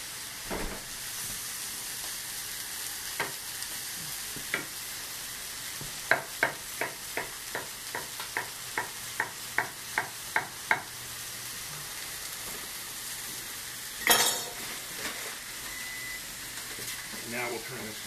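Costco power greens and sausages fry in a pan with a steady hiss and sizzle, broken by a run of sharp scraping or tapping strokes as they are stirred, then a brief louder burst near the end.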